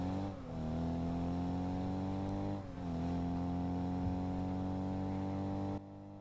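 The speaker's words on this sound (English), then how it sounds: "but here is the engine noise" The Fennec car's engine in the video game Rocket League hums with a steady synthetic drone, rising in pitch twice as it revs, then cutting off abruptly at the end.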